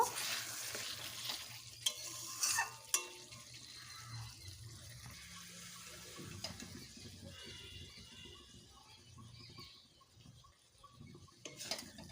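Begun posto, an aubergine and poppy seed curry, cooking and simmering in a pan, heard as a soft, steady bubbling sizzle with a few sharp clinks of stirring near the start and end, with no talk.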